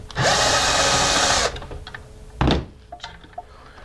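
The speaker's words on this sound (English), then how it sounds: "Using a 1/4-inch hex bit, I'm going to actually remove the 2 screws." A power drill fitted with a 1/4-inch hex bit backs two screws out of the DC-side casing of a WF-8955REP unit. A close, steady whirring burst of just over a second is followed by a single solid thunk and light handling noises.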